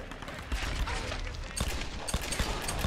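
Automatic gunfire in the Tomb Raider video game, a dense spray of rapid shots over continuous background noise, with a voice talking over it.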